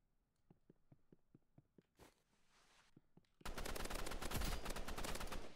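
Gunfire in the shooter game Rivals, heard as a string of evenly spaced light shots, then a sudden loud, sustained burst of rapid fire that continues to the end.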